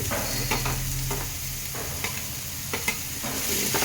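Carrot and cabbage frying in hot oil give a steady, close sizzle with occasional stirring scrapes and clicks, no talking.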